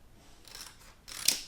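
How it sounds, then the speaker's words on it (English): Scissors trim a piece of heat transfer vinyl, giving a few quiet snips that end in one sharper, louder cut near the close, with no talk. "I'm just going to trim this piece of heat transfer vinyl"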